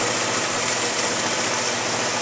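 An Intelliquilter computerized quilting machine runs with a steady, even mechanical hum and whir that stays constant throughout, with no talking.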